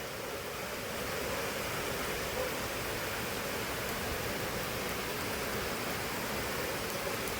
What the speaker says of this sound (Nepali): बवाल पानी पर्यो।